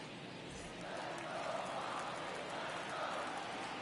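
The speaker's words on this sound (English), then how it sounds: "Listen to the South Korean fans cheering for the Padres" Stadium crowd of South Korean fans cheering for the Padres in the baseball video game MLB The Show, a steady broad roar that swells slightly and holds throughout.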